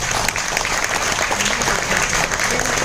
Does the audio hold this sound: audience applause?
yes